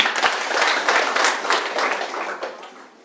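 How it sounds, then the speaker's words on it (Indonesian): A presentation audience breaks into dense, steady applause, many hands clapping together at fairly close range for about three seconds before it starts to thin out. "tepuk tangan dong kalau itu benar"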